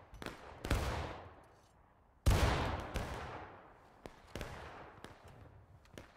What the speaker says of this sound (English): Yeah, they're shooting at spawn.